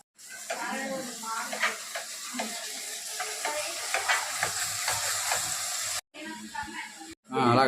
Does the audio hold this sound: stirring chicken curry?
yes